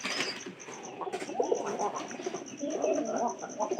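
Pigeons coo softly in a coop among a young pigeon, with repeated low coos, high chirps and a brief flutter of wings; a voice murmurs faintly in the background.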